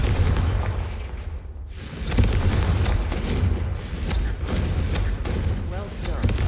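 Fiery blasting-spell explosions from Hogwarts Legacy fire in quick succession, each a loud booming thud with crashing debris, dense and continuous across the fight.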